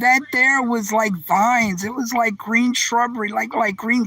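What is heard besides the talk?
No distinct noise like a dog, phone or traffic.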